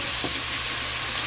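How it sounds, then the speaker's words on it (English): Lamb shank frying in a pot gives a loud, steady sizzle that runs unbroken, with a brief stirring scrape near the start and no voices. "that is enough frying"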